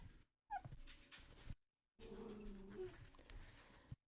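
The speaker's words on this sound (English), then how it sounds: "I got my dogs. They're really busy today." Dogs at play indoors let out high whimpers and yelps in two short bursts separated by silence, close and fairly quiet, with squeaky whining tones mixed into the scuffling.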